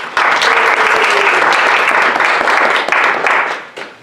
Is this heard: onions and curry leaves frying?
no